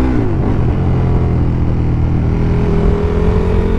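KTM Super Duke 1290 motorcycle engine under way, a loud, close, continuous low rumble that shifts pitch slightly as the bike accelerates, with no voices.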